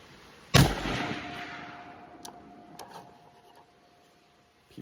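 A single loud battle rifle shot firing M80 ball ammunition cracks sharply outdoors, its echo rolling away over several seconds, followed by faint distant pops.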